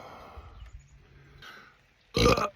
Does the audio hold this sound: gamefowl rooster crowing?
no